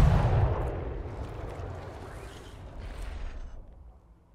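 A cannon volley fires from a ship in the pirate video game ATLAS: a heavy, booming blast up front that rolls and rumbles away, with a second muffled boom trailing off into quiet.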